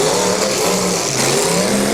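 A demolition derby car engine at a county fair arena in 2009 revving hard and accelerating, loud and sustained, with a roaring, throaty tone and no voices.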